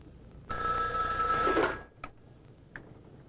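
A telephone rings in one sustained electronic burst of about a second, loud and close, followed by two short faint chirps after it stops.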